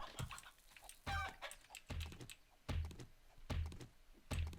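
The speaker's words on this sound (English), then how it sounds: "Chicken." Chicken clucks in the survival game 7 Days to Die: a run of short, sharp clucks with a soft thump under each, spaced at a steady rhythm, close and fairly quiet, with no talking over them.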